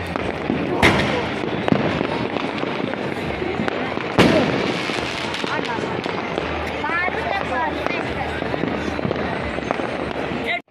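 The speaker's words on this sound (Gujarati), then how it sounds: "ફટાકડા તો ફૂટે જ છે" Firecrackers burst repeatedly at varying distances during Vasi Uttarayan festivities in Ahmedabad, sharp cracks and pops scattered over a busy background with people talking.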